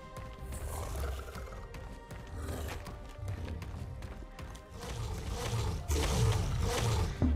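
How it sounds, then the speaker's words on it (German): A tiger in the video game ARK Survival Ascended roars and growls amid busy game noise, with rumbling low sounds and bursts of louder action toward the end. "Tiger!"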